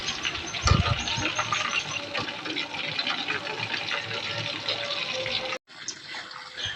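Measured water for biryani pours into a cooking pot with a splashing, rushing stream that runs steadily for several seconds, then cuts off abruptly before a softer trickle resumes.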